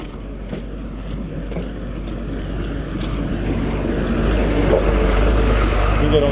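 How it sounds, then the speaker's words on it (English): A tractor pushes snow off a road, its low engine rumble building and drawing nearer under gusty wind noise while someone talks nearby. "This guy's still out here pushing snow off the road."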